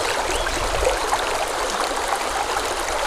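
Small creek stream of flowing water, a steady close babble and trickle over rocks that holds at an even level from start to finish, with no voices.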